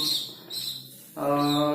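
A young squab pigeon gives a few short, high-pitched squeaky calls close by, the last one longer and more insistent.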